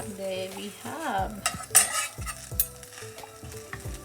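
A bread omelette sizzles in a frying pan, with steady frying crackle broken by scraping and clinking of a utensil against the pan, close and moderately loud, while background music plays.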